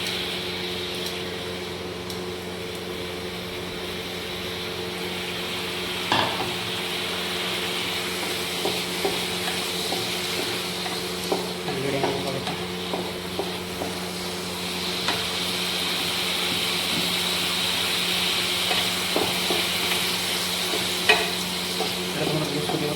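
Potatoes and ridge gourd fry steadily in a pan with ground spices, a constant sizzle and hum broken by repeated scraping, clinking stirs of a spatula, close and continuous with no talking.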